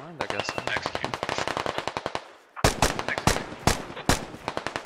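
Sustained automatic machine gun fire in the Squad military shooter game, fast rhythmic bursts of close shots followed by a brief pause and then heavier, louder single reports, all dense and loud.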